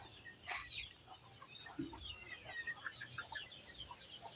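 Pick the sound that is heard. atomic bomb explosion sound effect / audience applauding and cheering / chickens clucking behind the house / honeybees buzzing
chickens clucking behind the house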